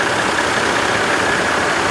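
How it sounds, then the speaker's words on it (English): A Massey Ferguson 165 tractor with Multi-Power transmission runs at a steady, loud, close engine drone with no pauses, heard alone outdoors. "Tractor running fine."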